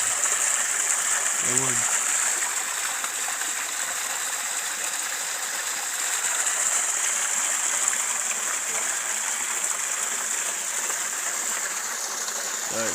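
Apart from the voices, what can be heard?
water flowing out of a deep cave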